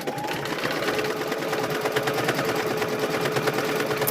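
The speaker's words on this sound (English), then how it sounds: "So it's now going to do its satin stitch on here." A sewing machine runs a continuous satin stitch on quilt squares, a steady dense close-up buzz with fine rapid needle ticking that stays even throughout.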